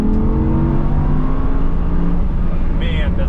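Audi R8 V10 naturally aspirated engine pulling hard in individual mode, a loud steady drone with rising harmonics and a higher rev whine near the end, voices talking over it inside the car.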